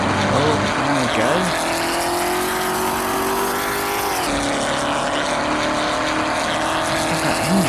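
A race car engine in the Assetto Corsa driving game drones loudly and continuously, its pitch rising and falling with revs and briefly dropping as the car shifts or lifts off.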